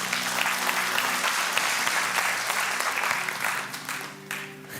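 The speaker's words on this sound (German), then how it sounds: "Hey, wollen wir Jesus noch einen Klatsch geben?" Church congregation clapping for Jesus during a worship service, a full, steady round of applause that tapers off toward the end, with a held tone and faint voices underneath.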